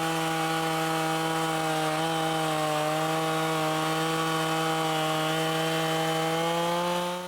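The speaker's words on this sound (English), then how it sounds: "all the lumber in that house was cut with a chainsaw just like this" Chainsaw ripping along the width of a lumber board, a loud sustained whining engine tone holding nearly steady for several seconds with no talk.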